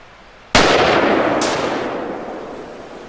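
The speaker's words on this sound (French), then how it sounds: "Voilà donc 3 tirs." Mauser M18 rifle in .243 Winchester fired outdoors on a cold day at a target: a loud, sharp crack, then a second report about a second later, both trailing into a long, rolling echo.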